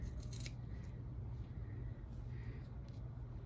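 Scissors snip through fabric, trimming the corners and seam allowance of a sewn kids' jacket; close, repeated cutting sounds over a steady low background hum, with no talking.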